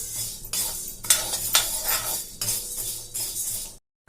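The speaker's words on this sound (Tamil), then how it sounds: "அடுத்து மிளகை வறுத்துக்கலாங்க. ஸ்டவ் வந்துட்டு மீடியமான ஃப்ளேம்லயே நம்ம இந்த பொருட்களை எல்லாத்தையுமே வறுத்து எடுத்துக்கலாம்." Black peppercorns dry-roasting in a pan over a medium flame make repeated clinking and rattling scrapes, loud and close, in uneven bursts that stop abruptly just before the end.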